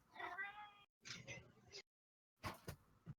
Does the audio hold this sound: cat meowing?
yes